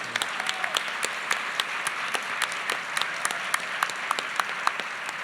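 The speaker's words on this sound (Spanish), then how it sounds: "Un aplauso para Cuenca." A book fair audience applauds in a steady patter of many hands, with sharper individual claps popping out above the even, moderately loud wash.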